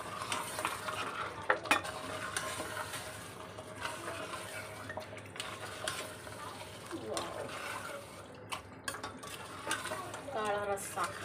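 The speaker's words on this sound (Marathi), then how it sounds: "मिक्स करून घ्यायचं चांगलं." Masala for chicken curry is mixed in a hot pan with continuous close stirring and scraping over a low sizzle, and a voice speaks faintly underneath.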